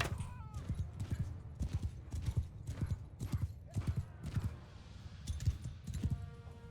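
Galloping hooves of horse archers in the Mount & Blade II: Bannerlord video game, a rapid repeated clip-clop drumming steadily throughout battle noise, with a faint whinny.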